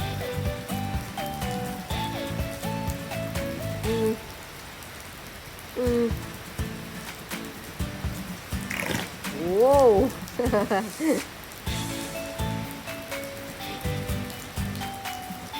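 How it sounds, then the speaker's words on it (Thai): Steady heavy rain pours down, a dense hiss running throughout, with tonal musical sounds and brief voices rising over it. "มาแล้วฝนตกมาแรงแล้ว"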